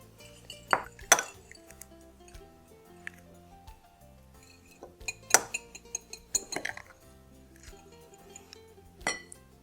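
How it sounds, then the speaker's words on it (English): Eggs and milk whisked in a bowl for a black bean and corn frittata, sparse clinks and taps of a utensil against the bowl in scattered bursts, fairly quiet, with clattering between strokes. "we're going to whisk our eggs and milk together"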